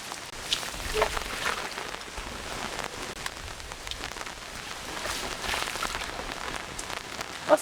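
Steady rain pattering on a hard surface, a continuous close wash of drops with occasional louder splashes, no voices.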